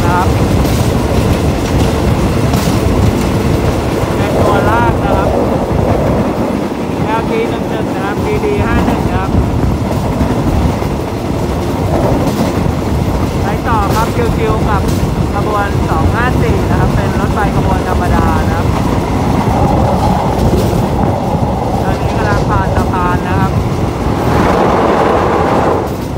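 A train with a locomotive rumbles through a rural Thai railway station beside a parked ballast-wagon train, a loud continuous roar of rolling wheels and clattering cars close by, with someone talking over it.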